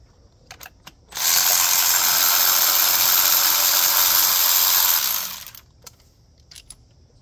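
Tools removing spark plugs from a warm car engine give a few sharp ratcheting clicks, then about four seconds of loud continuous mechanical whirring, then more scattered clicks. It is close-up and heard without talk.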